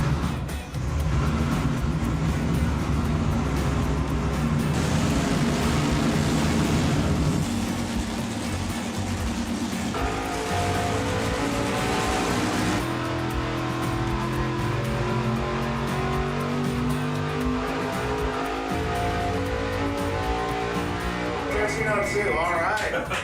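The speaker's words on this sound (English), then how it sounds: "We just ran the monster motor with the nitrous" Big Red Camaro's monster engine running hard on nitrous, a loud sustained roar with shifting pitch that climbs through several stages, with a voice talking over parts of it.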